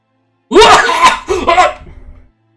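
A voice imitates a loud, harsh cough, two or three rough hacking bursts close up, then silence.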